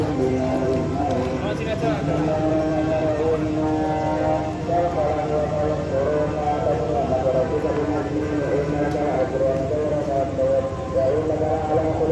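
At Karawang station a train rumbles steadily past at close range, a continuous dense roar of wheels and cars, while someone talks over it.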